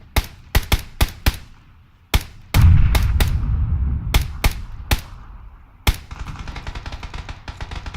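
Gunfire in the PUBG video game: sharp single shots in an irregular series, with a heavy burst and rumbling tail partway through, then a softer rattle of rapid fire toward the end, loud and without talk.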